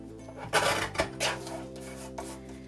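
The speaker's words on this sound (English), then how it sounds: "I'm just going to trim this as close as I can." Quiet cutting and rasping as a paper planner decoration is trimmed: a few short, separate scraping strokes over a faint steady background hum.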